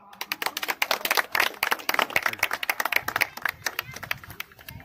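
Spectators clap at an Uttar Pradesh police passing out parade, an uneven scattering of many distinct hand claps from a crowd, loud and close, rising and thinning over a few seconds.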